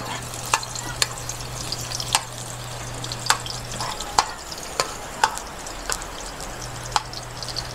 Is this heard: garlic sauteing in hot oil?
yes